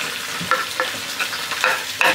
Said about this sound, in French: là, je suis en train de frire la viande après le poisson